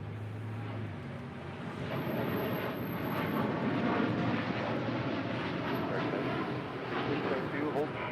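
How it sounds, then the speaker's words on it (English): A United Boeing 787-9 Dreamliner departs LAX runway 25 right, its engine roar building into a broad, steady rumble heard from a distance, with a brief tone and talk in the background. "That is United 231 departing to London on a 787-9 Dreamliner"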